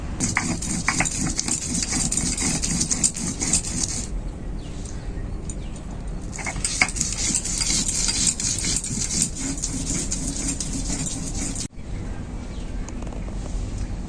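Soaked, drained red masoor lentils being ground in a grinder for a ridge gourd dish: a loud, steady whirring motor that stops briefly near the four-second mark and again just before the end, with no talking.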